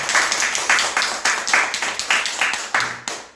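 A church congregation claps together in a steady rhythmic beat, each clap distinct and repeating at an even pace, with a faint voice underneath.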